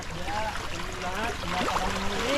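Water gushes from a hose in a steady, strong hiss of flow, fairly faint, with a few thin chirping tones over it.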